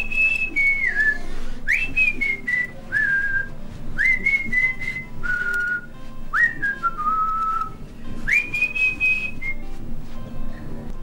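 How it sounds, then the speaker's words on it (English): A man whistles a tune on his own, bright wavering notes in several gliding phrases with short breaks between them, close and clear over a low background hum. "you know I love it when you whistle"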